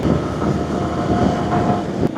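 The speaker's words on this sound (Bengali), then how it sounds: "ও কি এন্ট্রি, ডান দিক দিয়ে ট্রেন আসছে, পুরো ফাঁকা" A train rumbles past on the right at Bali bridge, a loud, steady rolling roar that fills the whole stretch.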